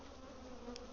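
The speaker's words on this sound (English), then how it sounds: "There's a lot of bees in there." Honey bees buzz at a crowded hive that is bearding heavily, a faint steady hum over the brief stretch with no voices.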